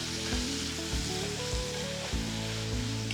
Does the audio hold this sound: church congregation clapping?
no